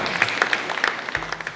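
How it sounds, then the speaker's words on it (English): Audience applause at a business show's season finale honouring women, a brief burst of steady, dense clapping at moderate loudness with no voices over it. "let's give a round of applause to all these amazing women"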